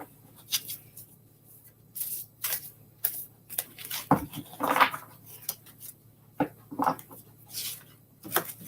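Several dogs move around a room indoors, making scattered clicks, taps and brief rustling bursts at irregular intervals, nearby but fairly quiet, with no speech.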